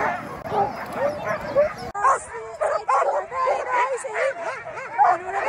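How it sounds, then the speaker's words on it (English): Excited sled huskies at a Lapland dog-sledding kennel in Saariselkä bark, yip and whine in a dense, continuous chorus close by, with people talking now and then underneath. "around this corner you can hear them already. They are excited."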